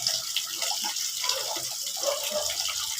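Tap water running steadily into a pot or sink while a chicken and papaya dish is cooked, a broad even hiss with no talk.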